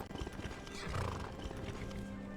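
In Skyrim, a horse lets out a whinny over clip-clopping hooves, at moderate volume and with no talking.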